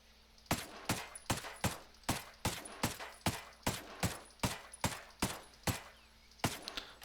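MK 14 rifle in Ghost Recon Breakpoint firing single sharp shots in a fast, fairly regular rhythm, about twenty loud cracks with short pauses, no talking.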